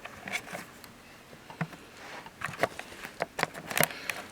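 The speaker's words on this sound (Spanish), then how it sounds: "Ahorita empezó a llover." Rain beginning to fall at a site of the Fuego volcano disaster zone: scattered light patters and taps, sparse at first and growing more frequent, close by and fairly faint, with no speech.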